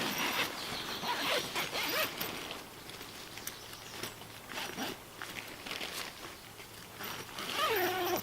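A tent zipper on an Outdoor Vitals Dominion 2.5-person backpacking tent being pulled closed, with several close, rasping zip strokes amid rustling fabric handling.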